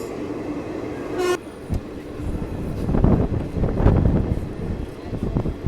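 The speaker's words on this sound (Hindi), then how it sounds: "यहाँ पे सामने में एक ट्रेन लगी है, कौन सी है देखना पड़ेगा। गोड्डा एक्सप्रेस।" Godda Express passenger train at a railway station, heard as a loud rumbling train with a short high horn toot, then heavy rolling wheel noise and clatter building up close by.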